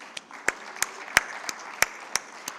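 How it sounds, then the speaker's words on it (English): Sparse, separate claps ring out at a panel discussion of the Asia Economic Dialogue 2025, roughly eight distinct sharp hits spaced evenly over a faint room background, sounding like only a few people clapping. "Can we give her a big round of applause"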